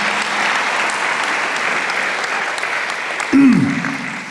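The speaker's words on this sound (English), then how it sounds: "So I would honestly give yourselves a round of applause" Steady, dense applause fills a UC Berkeley School of Information winter commencement hall as graduates are honored, the crowd's clapping holding even throughout before a voice starts speaking over it near the end.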